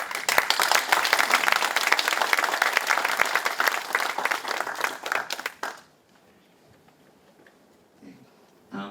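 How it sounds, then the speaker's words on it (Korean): Audience applause for a guest introduced at the opening ceremony of the 2024 Gyeongbuk Arts Academy in Gyeongsangbuk-do: loud, dense clapping from a room full of people that runs for about six seconds, then stops abruptly, leaving near-silence. "큰 박수 부탁드리겠습니다"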